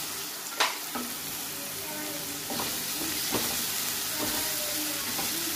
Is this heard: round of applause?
no